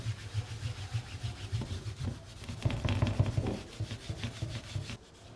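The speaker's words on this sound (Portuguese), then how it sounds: "Então eu peguei um tecido, um de algodão, poderia ser uma malha também. E vou polindo" A cotton cloth polishes a painted enamel piece with wire-painted decoration, giving close, steady rubbing strokes that repeat in a loose rhythm and swell briefly in the middle, with no talking.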